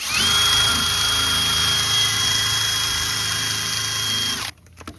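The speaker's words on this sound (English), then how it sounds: "I just hit it with a wire brush" A power-driven wire brush scours dirt and rust from the front sway bar mount of a 2007-2014 Ford Edge, a loud steady whirring grind held for about four and a half seconds before cutting off abruptly.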